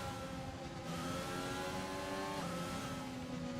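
Formula 1 car with a Mercedes power unit in the racing game F1 2020, a continuous high-pitched engine whine with rising and falling revs and a gear shift midway, loud and steady with no talk.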